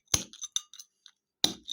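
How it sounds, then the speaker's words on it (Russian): Hardened burnt sugar, cooled on a mat, is snapped into lozenges with a few sharp, brittle glassy cracks and clinks close by, separated by short quiet gaps. "И ломаем теперь на такие леденцы."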